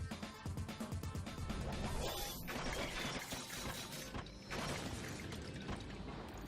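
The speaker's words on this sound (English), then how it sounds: "She runs, smashing away the swarming bone creatures." In the Fate/Stay Night video game, Saber smashes through swarming bone creatures, and loud, dense crashes and shattering clatter come in rapid succession over a busy game soundtrack.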